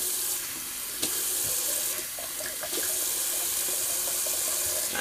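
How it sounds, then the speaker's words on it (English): Cold water pours steadily from a bathroom sink tap for a rinse, a continuous close splashing hiss with a couple of faint knocks and no talking. "let's just do a cold water rinse."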